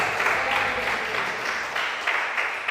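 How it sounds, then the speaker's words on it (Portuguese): A church congregation applauds during a Portuguese-language service, a brief, moderately quiet patter of many hands clapping in a reverberant hall. "Vamos aplaudir o Senhor."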